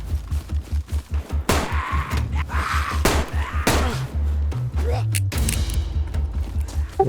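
Rapid bursts of video game gunfire crack and thud in quick succession, then give way to mechanical clanks and a sustained tone.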